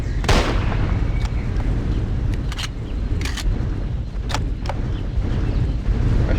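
Gunshots ring out at a T-rex among willow trees in a Jurassic Park hunting game, several sharp shots spaced irregularly over a low, rumbling wind-like bed.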